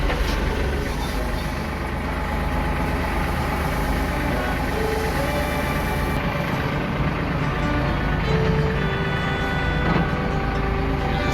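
A farm tractor engine idles steadily at close range, a continuous low rumble with a broad mechanical hum that holds level throughout, with no talk over it.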